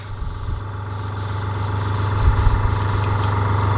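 A Fengda FD-186 airbrush compressor runs close by with a steady, loud motor hum and buzzing vibration, swelling slightly toward the end.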